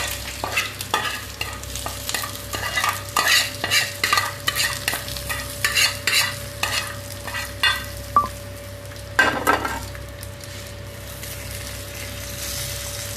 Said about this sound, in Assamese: ধুনীয়াকৈ নৰসিংহ পাতখিনি অলপ ভজা গ'লে আপোনাৰ হৈ গ'ল এইখিনি